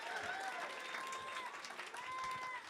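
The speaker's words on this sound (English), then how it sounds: "Give it up. Clap your hands." Audience clapping after children's recitation at a Milad-an-Nabi gathering, soft and fairly distant applause blended with crowd voices and cheering.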